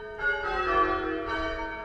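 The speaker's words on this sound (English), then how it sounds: "Wow, nice bell ring that was." A church bell strikes twice, nearby and clear, each stroke ringing out in a bright, layered tone that lingers and fades, with no talking.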